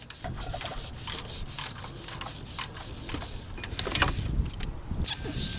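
A 13mm bolt is being worked loose from a car A/C compressor on a Lincoln MKS / Ford Taurus, making scattered ratchet clicks, scraping and metallic rubbing at close range with no talk.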